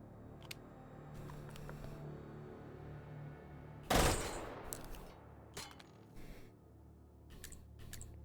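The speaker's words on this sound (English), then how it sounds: "Burst fire." A burst of gunfire in a video game: one loud, sharp cluster of shots midway with a short decaying tail, surrounded by scattered soft clicks and a low, quiet background hum.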